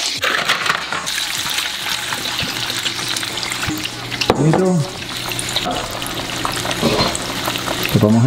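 Clams and garlic sizzle and fry in hot oil in a pan for pasta with clams, a steady crackling hiss throughout with stirring clatter and a brief voice speaking over it.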